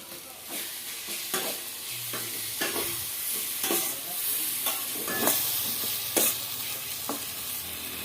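Tomato chutney fries in a pan with salt, sugar and roasted cumin powder, a continuous sizzle broken by repeated sharp scraping strokes of stirring at an uneven rhythm, close and fairly loud.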